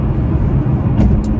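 A Bentley Continental Supersports engine at roughly 30% throttle, a deep steady low rumble that stays even and close throughout, with a faint brief hiss partway through.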